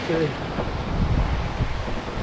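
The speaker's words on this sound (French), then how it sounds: "il y a toujours autant de vent" Strong wind gusting over open sea near the Cape Verde islands during a sailing passage from the Canaries, a steady broad roar with waves and buffeting against the microphone, continuous and fairly loud throughout.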